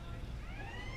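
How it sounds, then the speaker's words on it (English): A faint siren wails in the distance with a rising tone, heard behind steady background noise at an outdoor cricket match. "In the background, you can hear the siren going off."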